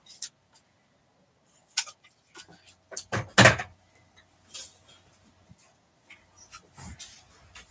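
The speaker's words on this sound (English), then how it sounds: "this is a little long, so I'm going to trim it" Paper for a Christmas card trimmed with scissors, a few sparse close snips and clicks with quiet gaps between them, no talking.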